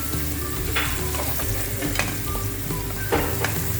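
Eggplant sautéing in a pan gives a steady, close sizzle and fry throughout, with a few sharp clinks of a utensil stirring it and no talking.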